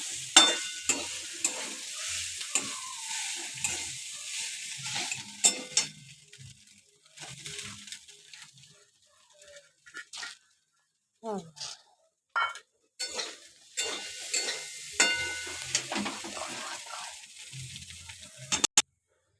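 Vegetables for chow mein are stir-fried in a pan, with bursts of sizzling, scraping and stirring and the clink of a utensil against the pan, broken by quiet pauses and brief talking.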